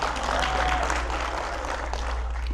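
An audience at a talk on Pakistani cinema music claps steadily in a moderate, even patter over a low electrical hum.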